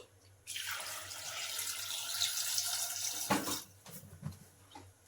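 A steady stream of water pours into a metal pressure cooker for about three seconds, then stops, followed by a few faint drips and clinks.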